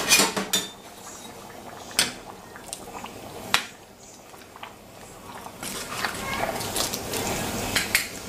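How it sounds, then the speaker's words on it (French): Spoon stirring chili con carne in a cooking pot, clinks and scrapes against the metal at irregular intervals, moderately close with a soft simmering background. "Hop, on va remuer un petit peu."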